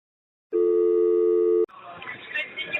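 A steady dial tone sounds loud and alone for about a second after a phone call drops, then cuts off abruptly into background noise and faint movement.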